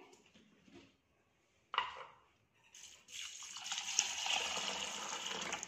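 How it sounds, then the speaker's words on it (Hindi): Water pours from a tap into a bowl of moong dal, starting with a few soft splashes and clinks, then becoming a steady, close gushing stream for the last few seconds. "अब इसमें हम पानी ऐड करेंगे अपनी दाल में।"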